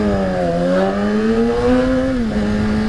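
A Yamaha R6 sport motorcycle rides through Fullerton, its engine note droning loud and steady with slight pitch rises and dips as the throttle shifts, a continuous close-up drone without speech.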